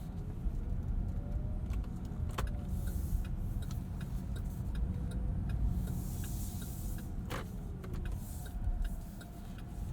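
A 2022 Chevrolet Bolt EV rolls along the road with a low, steady tire and road rumble, faint cabin ticks and soft whooshes of passing traffic, no engine note and no voices.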